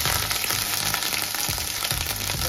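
Crushed ginger fries in hot oil after mustard seeds have popped, giving a loud, steady sizzle close up with faint stirring and no talking.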